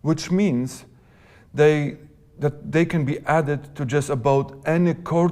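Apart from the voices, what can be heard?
No distinct noise like a dog, phone or traffic.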